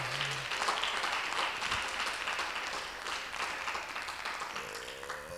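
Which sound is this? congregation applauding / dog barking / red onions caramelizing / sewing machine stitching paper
congregation applauding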